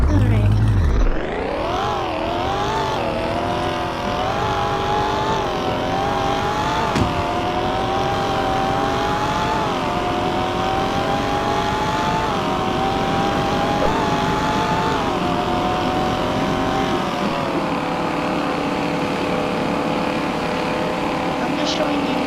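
A car drives past with its engine revving, loud and close, the pitch sweeping up and down through repeated rises and gear changes over a sustained roar, with no voices heard.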